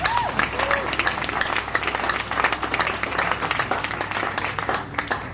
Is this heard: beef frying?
no